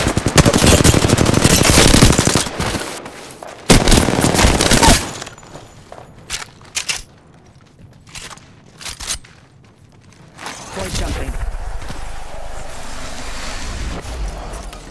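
Automatic weapon fire in the video game Apex Legends, with loud sustained bursts at the start, quieter scattered shots and clicks in the middle, then another steady stretch of firing and rumble toward the end.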